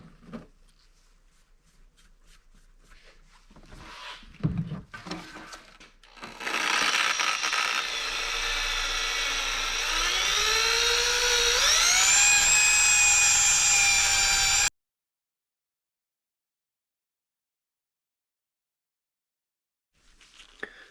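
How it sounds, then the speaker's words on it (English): A rotary tool polishing metal parts of a pair valve delete kit whines loud and close, its pitch rising as it spins up, then cuts off abruptly into silence after some earlier handling clatter. "So I will start polishing them right now"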